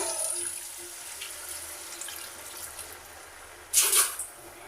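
Water runs and trickles steadily in the background, with a sudden louder splash near the end as water is poured into a pot for dal curry.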